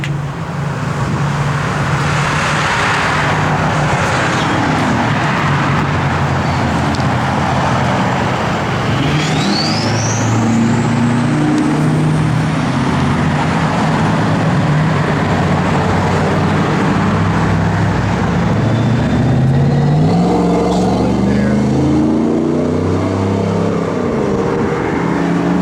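A 1966 Plymouth Fury III rolls along the road from inside the cabin, a steady loud engine drone with gear shifts and rising revs, road rumble and passing traffic throughout.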